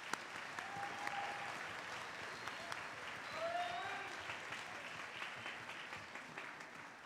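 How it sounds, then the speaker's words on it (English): Audience applauding at a middle school instrumental winter concert, a steady wash of clapping from a crowd heard at some distance, filling the hall evenly throughout, with faint voices murmuring underneath. "Just give them all a round of applause."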